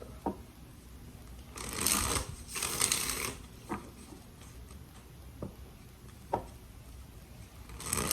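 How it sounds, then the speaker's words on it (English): Tarot cards being shuffled in a few short riffled bursts, with light taps and clicks in between, fairly close and moderately quiet. "Two more shuffles for Scorpio."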